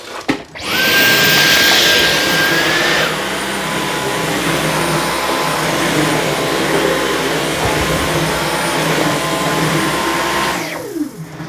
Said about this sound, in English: I can put the carpet cleaner on.